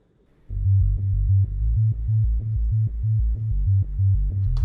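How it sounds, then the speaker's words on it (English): A deep synthesized sub bass pulses in a steady repeating pattern, with a soft clicking beat on top and nothing else, in a dark synthwave style. "As you can hear, it's the sub bass."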